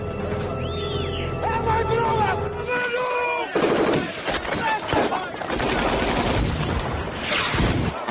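Heavy machine gun fire from Serbian troops in a war film, rapid bursts and booming shots after an opening of tonal music, loud and dense with crashing impacts through most of the scene.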